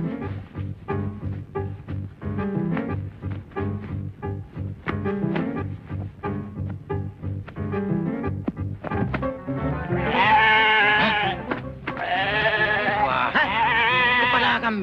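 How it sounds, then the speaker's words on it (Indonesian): A goat bleats in a 1992 Indonesian comedy film scene, giving loud, wavering, drawn-out calls in the second half over a steady rhythmic background. "Kambing."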